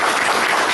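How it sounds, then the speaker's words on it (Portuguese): Brief burst of audience applause at a monthly meeting before a speaker on European and American foulbrood, loud and dense, cut short. "Vamos dar uma salva de palmas"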